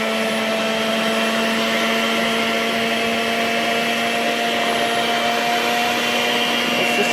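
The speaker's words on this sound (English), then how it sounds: "Whipping my shea butter back and forth" An electric mixer whips shea butter, a steady loud motor whine with a constant pitch held throughout, no talking.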